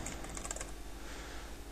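Computer keyboard typing in a WordPress editor, a steady run of light clicks close by, quiet and alone with no speech.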